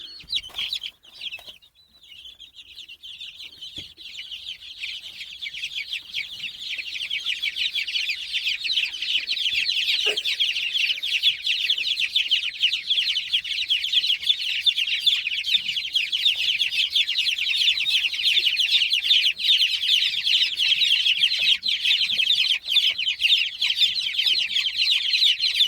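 Chicks in a chicken tractor brooder peeping in distress in the dark, a dense continuous chorus of high shrill cheeps that swells after a brief quiet start and stays loud and close.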